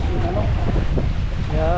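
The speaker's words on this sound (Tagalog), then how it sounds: "ang lakas ng hangin guys" Strong wind buffeting at the seashore, a loud continuous roar with gusting rumble, and a voice speaking briefly over it.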